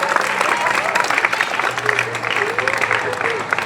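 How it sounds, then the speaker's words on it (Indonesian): Crowd applause for the madrasah at a Monday flag ceremony, a dense, steady patter of many hands clapping throughout, with voices mixed in beneath. "Yang keras coba, tepuk tangan untuk madrasah kita"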